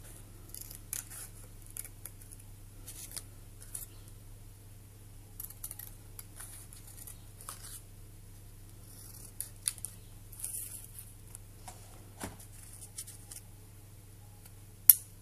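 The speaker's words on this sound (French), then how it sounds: "je vais déjà découper le nombre de motifs que je souhaite." Small scissors snipping out little rose water decal motifs, giving a series of faint, crisp clips spaced irregularly over a quiet steady hum.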